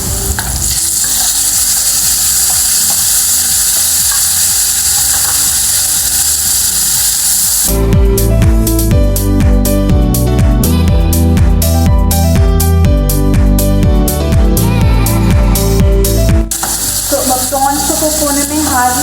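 Marinated prawns hit a pan of garlic browned in butter, and a loud sizzle bursts in partway through. The crackling spits on steadily to the end with no talking over it.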